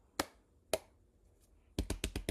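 Hand claps, faint and close: two isolated claps with a gap between them, then a quick burst of four or five claps in a row. The background is quiet.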